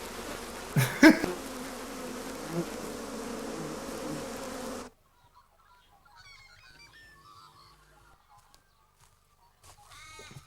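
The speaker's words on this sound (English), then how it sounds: "No, those are bees." Bees buzzing in a clip from a film, a droning hum with a sharp honking call near the start, then it cuts off into near silence with faint distant chirps.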